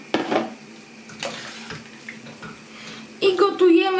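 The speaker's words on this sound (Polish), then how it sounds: "Do zupki teraz wrzucam nasze ziemniaki z tą wodą," Raw potatoes tip into a soup pot together with the water they stood in, a short splashing pour followed by sloshing and clinks of the pot, then a louder burst of splashing near the end.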